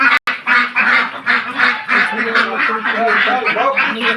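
Ducks near water give loud, close, rapid quacking and honking calls in a busy overlapping series, with a person's voice heard among them.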